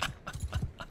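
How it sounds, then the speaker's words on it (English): Hooves of a slow-moving horse clip-clop in a fantasy battle game, five or six even, moderately close footfalls in a steady plodding rhythm, with no talk over them. "this horse is so slow"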